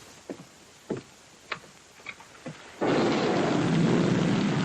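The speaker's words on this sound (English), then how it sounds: "The rain that's falling down," A few soft, separate thumps and ticks give way to a sudden dense, steady roar of heavy rain with a thunderous rumble, loud and unbroken to the end.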